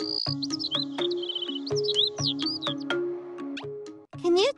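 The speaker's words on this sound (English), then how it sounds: "Nana, can you hear a chirping sound?" High chirping and tweeting calls come in quick rising and falling phrases, mixed with musical tones, bright and fairly close.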